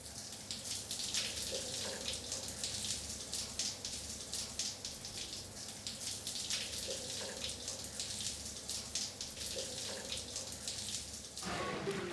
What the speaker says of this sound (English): What's going to happen when he steps into a cold shower?